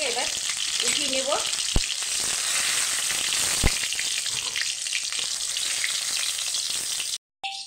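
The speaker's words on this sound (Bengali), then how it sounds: "পটলটাকে আরেকটু ভেজে নেব।" Pointed gourd (potol) pieces frying in oil in a kadai, a loud continuous sizzle with a couple of sharp utensil clinks, cut off abruptly near the end.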